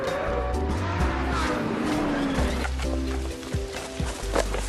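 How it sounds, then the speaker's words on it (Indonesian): A car driven recklessly in a football film, engine roaring under a long squeal of skidding tires, then thumps and rattling as the noise stays loud and dense throughout. "Enrique mengendarai mobil dengan ugal-ugalan"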